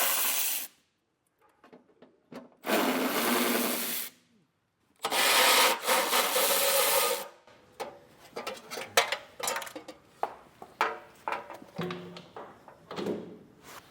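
Removing 10mm heat shield bolts under a 2025 Subaru Forester, two bursts of loud power-tool whirring separated by quiet gaps, followed by scattered metallic clinks and handling thumps.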